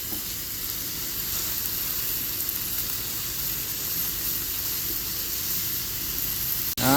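Bok choy and thinly sliced tomato stir-frying in a hot pan, with a loud, continuous sizzle and steady hiss that holds evenly throughout, ending in a brief clatter.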